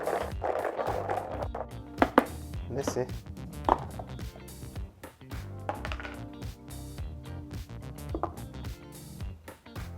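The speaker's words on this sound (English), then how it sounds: "put garlic in here and shake" Loud, rapid rattling and clattering as hard garlic is shaken inside a closed container, with a brief spoken remark.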